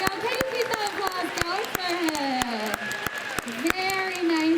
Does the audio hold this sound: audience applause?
yes